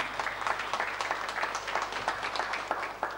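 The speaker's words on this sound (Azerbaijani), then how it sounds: "Alqışlar." An audience at a secondary school conference in Ismayilli claps continuously, a dense patter of many hands filling the room at moderate loudness with no voices.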